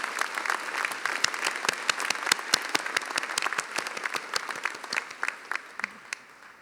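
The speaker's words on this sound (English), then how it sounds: "and you may all applaud." Audience applause at a UCLA doctoral hooding ceremony for the David Geffen School of Medicine, many hands clapping in a dense, lively patter that gradually thins and softens toward the end.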